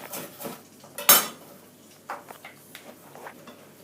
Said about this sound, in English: got a couple of baby corn that we have. Very simple, go into rounds.